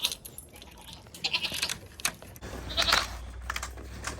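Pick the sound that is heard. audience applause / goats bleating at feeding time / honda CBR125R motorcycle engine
goats bleating at feeding time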